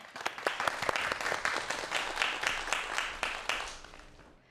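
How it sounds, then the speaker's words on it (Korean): A lecture audience in a Korean television studio claps to welcome a professor speaking on aging. The applause is moderate, with distinct sharp claps standing out from the wash before it thins and fades away. "자, 여러분 박수 부탁드리겠습니다."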